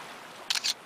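A camera shutter in the Uma Musume Pretty Derby video game fires as a quick double-click snap, crisp and close after a moment of quiet.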